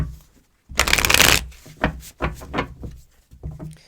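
Tarot cards are shuffled close up, with a dense riffling burst followed by several shorter shuffles and soft card slaps in quick succession.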